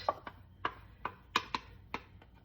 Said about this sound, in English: I'm going to add the baby clams